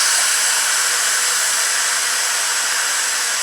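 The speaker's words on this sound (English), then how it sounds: "when I open the vent, the steam comes out really gently" Steam vents through the diffuser of an Instant Pot EVO pressure cooker after cooking chicken and mushroom risotto, making a steady, close, even hiss that continues without a break.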